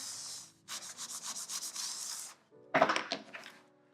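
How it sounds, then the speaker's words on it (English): Repeated rubbing and pressing strokes of a hammer pressing tape onto vinyl, a rhythmic series followed by a short clattering knock and scrape. "I use my hammer to really push it down."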